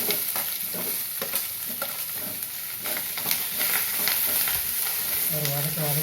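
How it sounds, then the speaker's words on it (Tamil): Onion, curry leaves and cucumber sizzle steadily in a pan while being stirred, with scraping clatter over constant frying hiss and a faint voice near the end. "ஒரு வதக்கிக்கலாம். காய் வதங்கிடுது."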